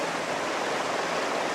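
Steady broadband rush of flowing river water, loud and continuous for the whole moment, with no voices or other sounds over it.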